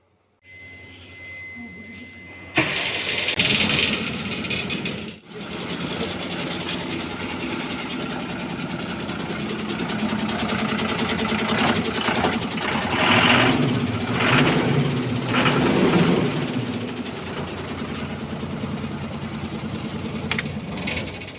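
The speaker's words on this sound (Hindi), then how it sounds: "अभी इस ट्रक के इंजन को स्टार्ट कर इंजन के साउंड सुनाएंगे" An Ashok Leyland 3520HG BS6 twelve-wheeler truck diesel engine cranks and catches after a quiet moment, then settles into a steady, loud, close idle that hums on with a brief dip and slight swells.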